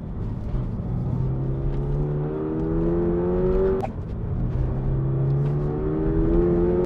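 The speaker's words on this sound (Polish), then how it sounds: "3000 obrotów, ja dodaję gazu, a on odjeżdża od razu." A Toyota GR86 engine revs hard under acceleration from around 3000 rpm, its tone climbing steadily, dipping briefly as if shifting, then pulling and rising again, loud and continuous from close by.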